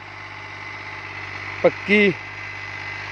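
A Fiat 480 tractor engine runs in a field of hard, compacted soil. It makes a steady, low idling hum throughout, with someone speaking briefly over it.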